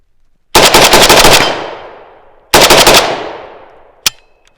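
Riley Defense RAK74, an American-made AK-74 rifle, fired outdoors in two loud rapid strings of shots, each rattling bursts with a ringing echo that trails off, then a single sharp shot near the end.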